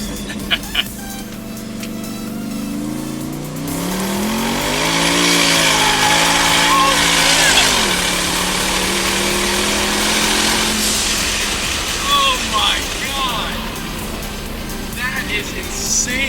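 A turbocharged car fitted with a cold air intake accelerates hard on a test drive, its loud engine drone climbing in pitch, dropping back around the midpoint, then holding a steady roar with brief chirps and whooshes near the end.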